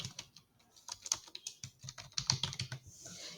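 Rapid clicks of typing on a computer keyboard, a quick, uneven run of close keystrokes without any talking.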